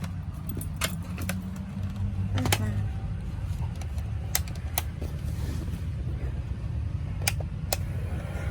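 A small electric fan in an RV whirs steadily close by, its low hum joined by occasional sharp clicks and handling rattles.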